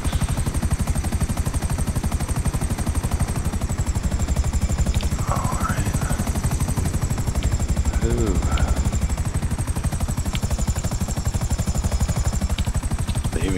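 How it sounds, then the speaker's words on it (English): A helicopter in GTA 5 Online drones loudly and continuously with fast rotor chop, close and unbroken, while a man makes a couple of brief remarks over it. "this time we're going to head right towards the helicopter"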